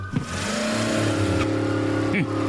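A cartoon car roars along in a street race with police in pursuit, its engine droning steadily with quick pitch swoops of revving and a brief squeal, loud and close over a music bed.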